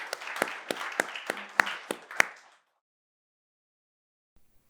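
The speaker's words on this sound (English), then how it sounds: "Maybe a round of applause for Ruben today." A few people clap after a talk at a Redis Released breakout session on AI for financial services, a short run of sharp, evenly spaced claps lasting about two seconds, followed by near silence.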